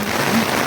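Heavy rain drums on an umbrella canopy overhead, a dense, steady patter close above with no voices.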